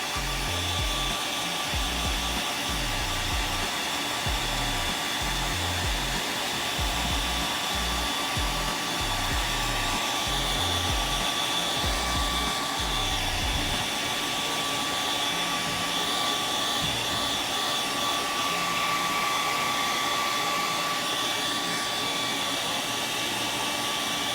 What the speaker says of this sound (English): Once you have that done, just take your hairdryer